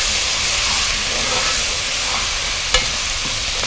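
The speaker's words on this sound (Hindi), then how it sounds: "आपने देख लिया मैंने प्याज कितनी फ्राई की है" Onions fry in a pan with a loud, steady sizzle and steamy hiss, broken by a single brief clink of a utensil near the end.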